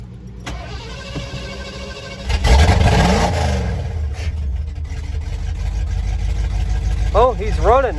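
A truck engine fitted with a Holley 4-barrel carburetor cranks, catches and fires up, then idles roughly with brief revs rising and falling near the end, heard close by with a voice briefly in the background.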